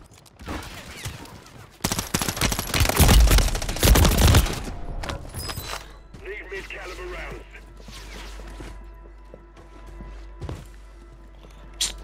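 Rapid gunfire in a Call of Duty battle-royale match, a loud dense burst of shots peaking mid-clip, then scattered single cracks and lighter in-game sounds with voices in the background.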